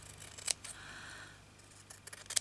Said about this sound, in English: Now I'm going to cut this bit off the end, because it's the side bit.